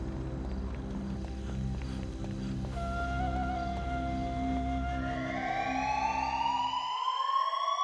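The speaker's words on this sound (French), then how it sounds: "Oh non, ça y est, l'alerte s'est déclenchée." Base alarm at Fort Zancudo in the video game GTA 5, a wailing siren that rises and repeats in sweeping tones over a low rumbling engine hum, which then cuts out, leaving the alarm alone.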